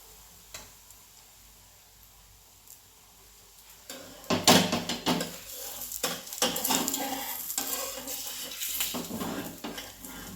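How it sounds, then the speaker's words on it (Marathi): A besan (gram flour) flatbread fries in oil on a hot griddle. It starts quietly, then after about four seconds loud crackling sizzle bursts in and keeps going unevenly, with clicks and spatters close by. "पहिली पोळी आपली सोडलेली आहे तव्यात, साईडनं तेल टाकून घेऊया"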